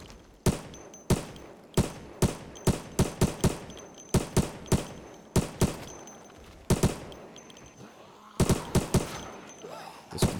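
Bursts of MP5 submachine gun fire in the zombie survival game Project Zomboid, loud sharp shots coming singly and in quick clusters at an uneven rhythm, with short lulls between them.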